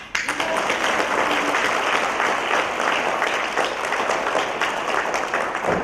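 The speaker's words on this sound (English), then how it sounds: "Can we clap?" Audience clapping at a women's awards event fills the hall with steady, dense applause that starts suddenly and continues at an even level for several seconds.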